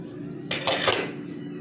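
Spices being stirred together in a bowl for an easy barbecue marinade, a short burst of scraping and clinking for about half a second, close and fairly loud, with no talk.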